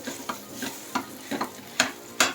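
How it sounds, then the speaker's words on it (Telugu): Amla paste stirred in hot ghee on low heat, giving six or so spaced scraping strokes with brief sizzle bursts, close and fairly soft, no talking. "నెయ్యిలో వేగితే చాలా బాగుంటుంది. ఇప్పుడు వేయించుకుందాం."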